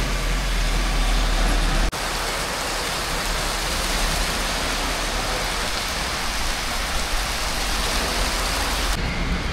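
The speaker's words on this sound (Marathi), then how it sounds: "मोठा पाऊस चालू झालाय" Heavy early-morning rain pours steadily at a roadside bus stop, a loud dense hiss of drops on surfaces that barely varies, with a short break in the sound early on and no talking.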